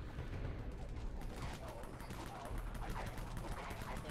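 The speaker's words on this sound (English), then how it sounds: "believe that person's using Uzi. Or some variation of 9mm." Distant automatic 9mm Uzi-style gunfire rattles steadily in the video game Dead Frontier, a sustained muffled fusillade of rapid shots at moderate level with no clear pauses.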